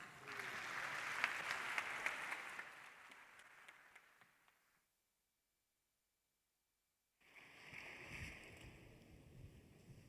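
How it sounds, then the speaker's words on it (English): Audience applause at an institute's 50th anniversary opening ceremony, a fairly faint crowd clapping that fades out into silence, then a brief burst of noisy clatter. "A round of applause."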